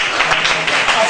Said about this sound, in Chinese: 好，尽在不言中，我们给他鼓掌。